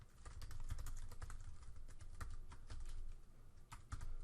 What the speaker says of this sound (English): in the comment section, I could type a description